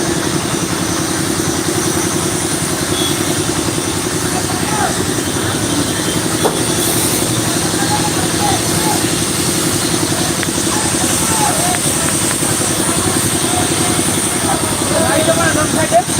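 Motorcycle engines idle steadily in a heavy traffic jam in Nabadwip, a loud, continuous mechanical drone with faint horns and voices underneath throughout.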